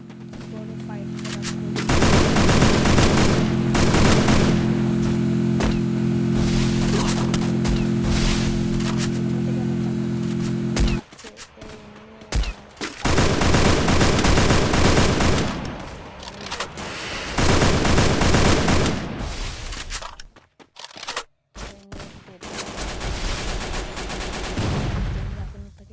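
Rapid MP5 submachine gun fire in a video game firefight comes as loud, dense bursts over a low droning hum, with short pauses and a few louder volleys near the end.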